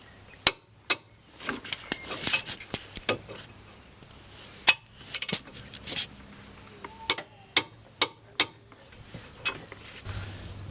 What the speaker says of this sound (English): I use a torque wrench. It should be 100 Newton meters, I believe, but please check that. So let's torque these up.